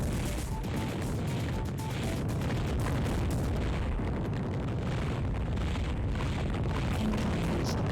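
An incoming missile detonates in the FireFight video game, heard as a loud, continuous rumbling explosion with heavy low-end boom that stays thick and sustained throughout, without any speech over it.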